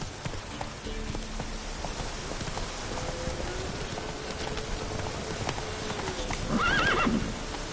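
Roach the horse gallops in The Witcher 3 with steady muffled hoofbeats under a soft rain-like hiss, then a short, loud neigh near the end.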